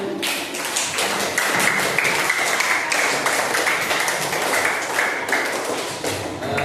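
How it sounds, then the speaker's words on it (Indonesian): Students clap for their classmates in a classroom after a group presentation, producing a dense, steady burst of applause that holds for several seconds with a few louder taps and thumps mixed in. "Yuk, beri tepuk tangan untuk teman kalian."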